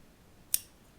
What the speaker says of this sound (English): Now you don't have to use these big, gigantic fabric scissors like I am here.